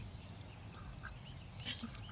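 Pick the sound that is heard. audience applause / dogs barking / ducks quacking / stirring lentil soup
ducks quacking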